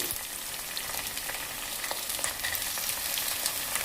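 Broad beans sizzling and frying in a pan with already-browned onions for a village-style tomato curry, a steady close crackle with occasional stirring, no talk.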